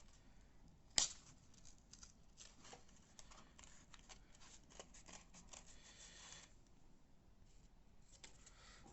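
Scissors cut pieces of cardboard at close range, with one sharp snip near the start followed by quieter, scattered cutting and handling sounds.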